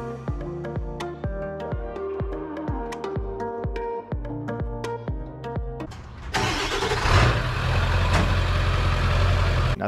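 A bass boat's 7.3 engine cranks with a rapid rhythmic starter chug for several seconds, then catches and settles into a loud, steady, rumbling idle.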